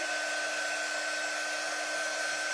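A hair dryer blows steadily and loudly, close by, drying paint on a small wooden heart shape for a craft kit, with an even constant whir and no break.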